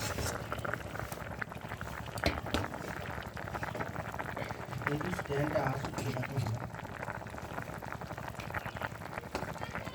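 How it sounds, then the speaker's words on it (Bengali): Curry gravy bubbles in a pan on the stove, a steady low simmering burble with soft popping that continues throughout at moderate level while a voice talks faintly over it. "তরকারি অর্ধেক সেদ্ধ হয়ে গেছে, ঝোল সুন্দরভাবে ফুটে গেছে।"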